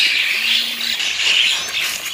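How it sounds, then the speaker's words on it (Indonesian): Perenjak (prinia) songbirds at a bird market stall, giving high, busy chirps and squawks that keep up steadily and fairly close, with a short low hum early on. "Ini perenjak, perenjak. Perenjak ready 600 ekor ya."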